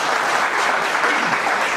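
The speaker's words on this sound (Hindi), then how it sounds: "और ज़्यादा तालियों से, बहुत कम तालियां हैं" Audience applause at a Hindi-language panel discussion on training and skill development in direct selling: a dense, steady wash of many hands clapping together, held at an even level throughout with no voices rising above it.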